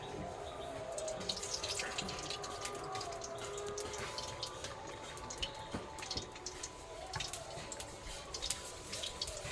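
Boiled carrot pieces are rinsed under a running kitchen tap, giving a quiet, continuous flow of water with scattered drips and splashes throughout.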